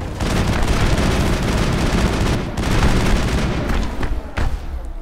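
Heavy automatic gunfire in the video game Mass Effect, dense continuous bursts with booming impacts, loud and close with a brief lull midway.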